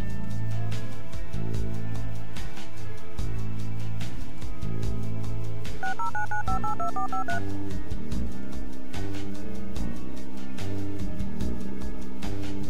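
Telephone keypad dialing in a police station inside a video game, a series of DTMF touch-tone beeps over steady game music and ambience, with a rapid run of tones in the middle.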